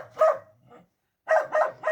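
Dogs bark in short loud bursts near a Romanian home during wall whitewashing, two barks followed by a pause and then three rapid barks, close and alone without talk.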